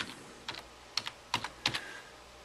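Typing on a computer keyboard while entering paper race registrations for a Gulf Coast Runners event: five short clusters of clicky keystrokes spread over a couple of seconds, close and fairly quiet, with no voices.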